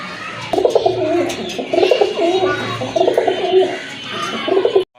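A close pair of Putul Gola pigeons coos steadily in repeated rolling phrases, fairly loud and alone, with the sound cutting off abruptly near the end.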